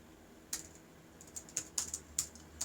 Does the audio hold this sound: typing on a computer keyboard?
yes